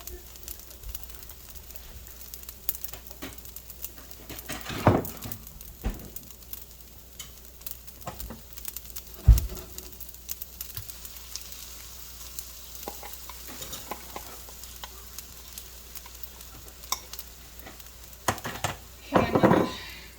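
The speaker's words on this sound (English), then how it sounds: "I'm going to put some more oil in the pan there so my eggs don't stick" Eggs sizzle and crackle in oil in a pan, a steady close frying hiss with occasional clinks and stirring knocks, louder bursts toward the end.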